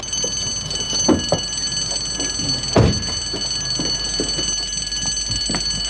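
A building alarm rings continuously, a steady high electronic tone over a noisy room with a few bumps and knocks, no speech.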